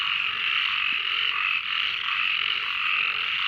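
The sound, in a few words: frogs croaking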